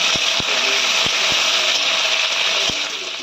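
Electric blender grinding green chilli, garlic and ginger into paste, a loud steady motor whir close by with several sharp knocks of the jar, tapering off at the end.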